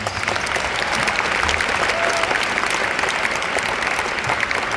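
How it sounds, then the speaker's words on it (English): Audience at a doTERRA business event applauding, dense continuous clapping filling the room at a steady loud level from start to finish. "Can you give yourself a round of applause?"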